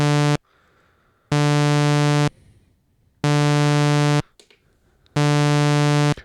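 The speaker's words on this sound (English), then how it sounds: "what you're hearing is the square wave acting as the level control of oscillator 1" A Dave Smith Instruments Pro 2 synthesizer tone gated on and off by a square-wave LFO routed to oscillator 1's level: four loud, steady buzzy bursts of about a second each, separated by near-silent gaps.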